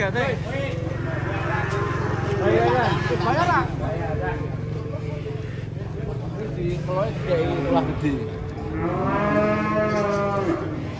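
Wild cattle (banteng) lowing repeatedly with long harmonic moos, loud and close, over a steady engine hum from a truck at an unloading spot, with people talking throughout.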